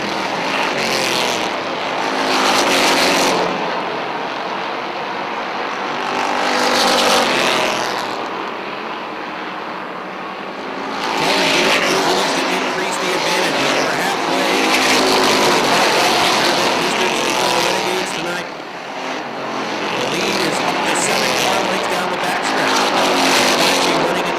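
Race cars roar around a racetrack, engines rising and falling in waves as packs of cars sweep past, loud and continuous with brief lulls between passes.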